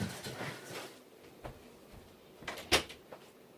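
A door is shut in a quiet room, with soft shuffling and faint bumps building to one sharp, fairly loud thud of the door closing near the end, then a small trailing knock.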